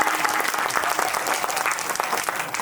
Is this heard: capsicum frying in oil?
no